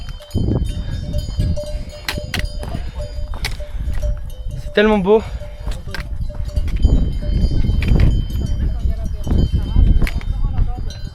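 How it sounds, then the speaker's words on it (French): A small flock of sheep on an alpine mountain climb near Mont Thabor, with a brief bleat and clanking bells amid outdoor rustle, while people talk nearby throughout. "Ouais, tous les moutons qu'il y a."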